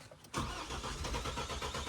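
Mahindra Thar Roxx engine cranking and catching in freezing cold, a brief quiet then a sudden loud, steady rhythmic churn of the starter and engine that continues at close range.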